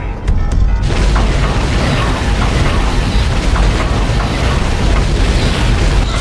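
A heavy blast opens with a sharp burst, then a dense roaring rumble continues loudly and steadily: the Firestorm Cannon firing in Turok 2 multiplayer.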